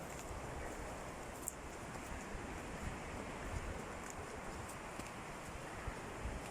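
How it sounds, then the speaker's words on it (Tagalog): Steady sea surf at a waterfront during a holiday outing, a continuous broadband wash of waves and wind with no talk, even in level throughout. "Silipin natin yung dagat. Ayan ang dagat."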